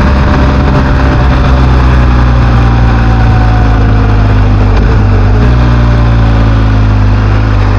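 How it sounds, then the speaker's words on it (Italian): A BMW R1250 GS Adventure motorcycle engine drones loudly and steadily at close range, then the pitch dips briefly as it downshifts and the engine braking takes hold. "Ha un freno motore molto importante, la scalata si sente."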